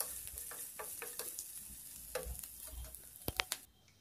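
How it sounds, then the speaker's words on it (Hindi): Paneer frying in a pan with chopped dried red chillies, a soft crackling sizzle with spatula stirs and a few sharp clinks near the end, close and quiet. "सूखी हुई लाल मिर्च को छोटे छोटे टुकड़ों में काट कर डालें और इसे भी साथ में फ्राई कर लें।"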